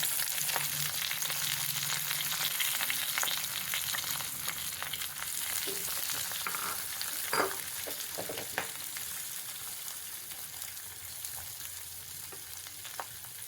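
Onion frying in a pot for a chicken dum roast, a steady close sizzle with occasional crackles and stirring clinks, no talk over it.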